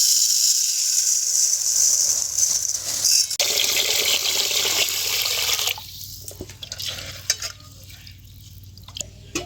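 Rice soaking for potato biryani in a home kitchen: a loud, steady rush of water pours for several seconds, then stops, followed by quieter splashing and stirring of the grains in water.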